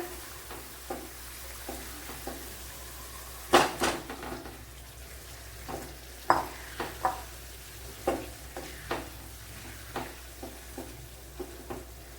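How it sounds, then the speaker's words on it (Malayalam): Eggs stirred into sizzling masala in a frying pan, with a steady soft fry hiss broken by a dozen or so scraping, clacking stir strokes, two louder knocks early on. "നമ്മുടെ മസാലയിലേക്ക് ഈ എഗ്ഗൊക്കെ ഇട്ട് കൊടുക്കാം"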